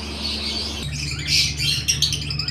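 Baby parakeets, hand-fed and being moved onto seeds, give a close burst of high, scratchy chirps and squawks, with a short lower buzz before them.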